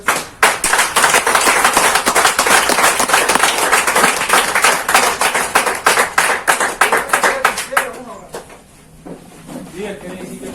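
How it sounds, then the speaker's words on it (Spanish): A church congregation bursts into loud, close applause, full and sustained for about eight seconds before thinning into scattered claps and fading out. "Fuerte aplauso."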